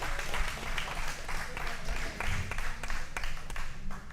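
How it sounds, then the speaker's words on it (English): An audience claps and applauds at a Friday night face-off event, a dense, steady patter of many hands that is fairly loud and continuous, with a voice speaking faintly underneath. "So go ahead and clap it up for yourselves."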